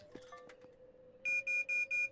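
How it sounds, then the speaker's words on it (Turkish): A security alarm in Internet Cafe Simulator 2 beeps four times in an even, rapid rhythm, clear and steady, after a quieter stretch of game sounds. "Koruma alarmı var bende kardeşim."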